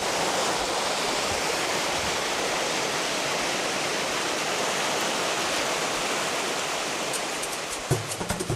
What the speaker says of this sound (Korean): 계곡 한가운데 물소리를 들으며 발 담그고 낚시하니까 더위를 잊은 지 오래였다